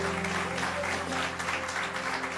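Church congregation applauding during a Sunday worship service in Lisbon, a steady wash of clapping with a sustained musical tone beneath it, fairly loud and continuous throughout.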